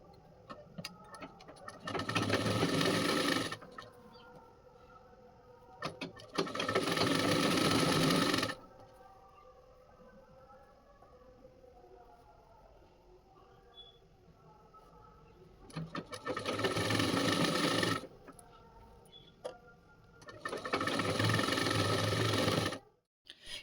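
A sewing machine stitches two parts of baby sari fabric together in four separate bursts of steady, loud running, with quiet pauses between them.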